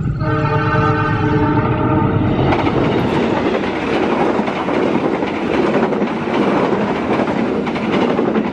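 An Indonesian Ciremai passenger train sounds a long, loud multi-tone horn for a couple of seconds, then thunders past close by with steady wheel rumble and clatter that continues to the end.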